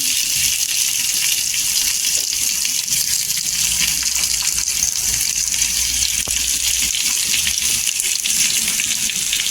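Stuffed bitter gourd frying in oil on a flat pan, a continuous dense hiss of sizzling, close and fairly loud, steady throughout with no talk.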